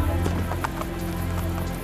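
Horse hooves clip-clopping at a gallop in Assassin's Creed Brotherhood, a steady rapid rhythm over a constant low game ambience, fairly close and continuous.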